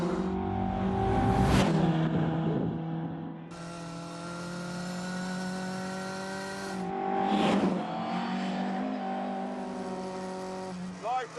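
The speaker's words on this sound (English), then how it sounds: "Cadwell Park, sunny day, Mark 1 Lotus Cortina." Mark 1 Lotus Cortina racing around Cadwell Park on a sunny day, its engine note rising and falling through gear changes and passing close with sharp, loud bursts of revs.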